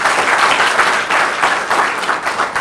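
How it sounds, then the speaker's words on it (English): Applause for speakers at a Rotary session, a dense, steady round of clapping from the audience that stays even and full for its whole brief span. "Can we all have a round of applause for our excellent four speakers?"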